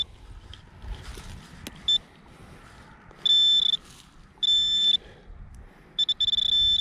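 A handheld metal detector sweeping ground during outdoor metal detecting gives several sharp, high electronic beeps in short bursts, separated by faint rustling and handling noise.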